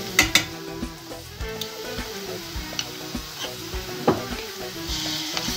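Tomato, pepper and chili flakes fry and sizzle in a pan for kısır while a utensil stirs them, scraping and tapping the pan in an irregular rhythm close by, with no talking.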